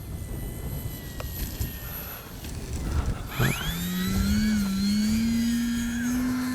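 FMS 1700mm PA-18 Super Cub RC plane taking off and flying, its electric motor whine rising and then holding steady and close.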